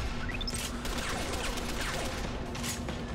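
Gunshots in the video game Deus Ex: The Fall, a quiet, steady stream of rattling fire and clatter with no talk over it.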